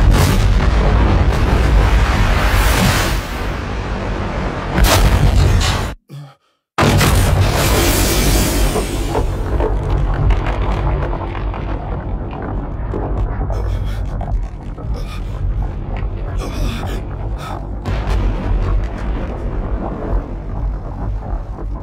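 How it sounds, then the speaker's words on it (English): A loud video-game explosion in Dark Souls 2 opens with a heavy rumbling blast, cuts to silence for a moment, then rolls on into a long, fading, booming rumble. "An explosion like that."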